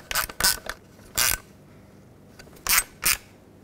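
A ratchet tightens bolts on the mass air flow sensor housing of a 1997-2003 Ford F-150, giving short bursts of close, crisp clicking in uneven pairs, separated by quiet pauses.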